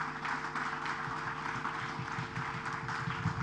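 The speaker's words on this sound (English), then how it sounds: "could I please ask for a very, very warm round of applause to all our panelists" Audience at an academic research conference applauding its panelists, a soft, steady patter of clapping heard from a distance over a low hum, with faint voices underneath.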